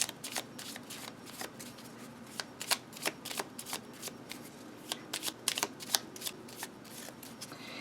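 Tarot cards are shuffled by hand in a close, quiet room, a rapid run of crisp riffling flicks and slaps that comes in short irregular bursts over a low background hum.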